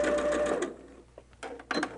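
A sewing machine runs a steady stitching burst on a seam of a holiday quilt, then stops, followed by a few short, quieter bursts of stitching; no talking.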